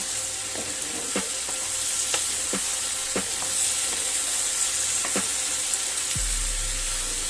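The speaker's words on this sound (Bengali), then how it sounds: "এবার সবকিছুর সাথে পেঁয়াজটাকে মিশিয়ে আর একটু নেড়ে নেব" Chopped onion stirred into a sizzling pan for a ridge gourd and prawn curry, a steady frying hiss broken by several sharp scrapes of the spatula, close and alone.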